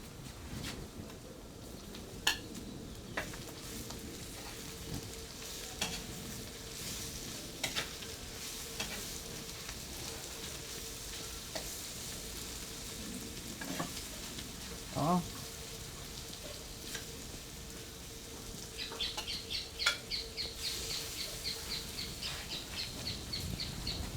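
Onion frying in a pan gives a low, steady sizzle with occasional faint clinks and scrapes, ending in a brighter crackle; quiet, with a voice briefly audible in the background.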